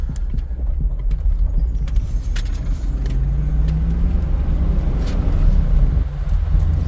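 A car with an LS engine swap accelerates through the gears, its low engine rumble loud and steady, with rising pitch sweeps as it revs and rattling clatter from the body over the top.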